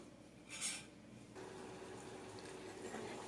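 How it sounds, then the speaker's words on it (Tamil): Sugar syrup for boondi heating in a pan on the stove, faint liquid sloshing as it is stirred, with one brief louder splash early on over a low steady hiss. "இப்போ இதை அடுப்பில் வச்சு லேசாக கிளறிக்கலாம்"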